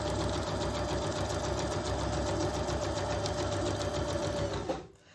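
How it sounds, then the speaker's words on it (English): Sewing machine running a straight stitch through paper for crafting, a steady, fast mechanical chatter held close and loud for nearly five seconds before stopping abruptly. "just a simple straight stitch"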